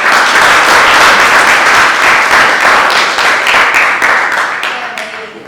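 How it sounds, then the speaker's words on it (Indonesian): Loud, sustained applause from an audience at an academic event honoring researchers, steady dense clapping that slowly fades toward the end. "Kita kasih tepuk tangan dulu."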